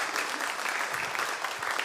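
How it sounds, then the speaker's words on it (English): Steady, dense audience applause at a conference session on responsible tourism in Edinburgh, a brief burst of many hands clapping together at even strength. "So everybody, please give yourself a round of applause."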